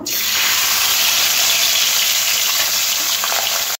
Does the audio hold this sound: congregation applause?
no